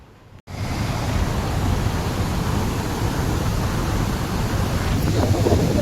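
Sea waves roll at a beach, making a continuous loud rushing wash mixed with wind noise on the microphone.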